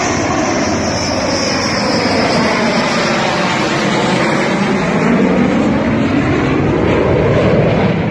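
A Rafale fighter jet flies in to land, a loud, broad engine roar that sweeps overhead and holds steady throughout, close and continuous, with no clear talking.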